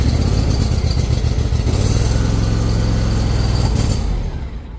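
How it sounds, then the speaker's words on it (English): Carbureted engine on a sit-down snowblower runs loud and steady at close range, a rough low rumble with mechanical clatter that fades slightly at the end. "This is a carbureted engine."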